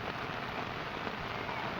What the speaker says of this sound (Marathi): मस्त पाऊस चालू झालाय